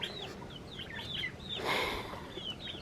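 Chickens in a backyard coop with ducks nearby cluck and call in short rising chirps throughout, moderately close, with a brief broadband scuffle in the middle and no talking.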